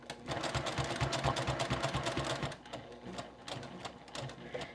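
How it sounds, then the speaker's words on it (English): A sewing machine stitches across a bag strap in a continuous rapid whirring run, loud at first, then easing slightly and continuing at a lighter pace. "I'm going to sew right across where we originally sewed"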